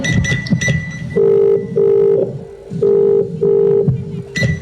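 A phone ringback tone sounds in four evenly spaced buzzing pulses, preceded and followed by short bursts of dialing tones and clicks.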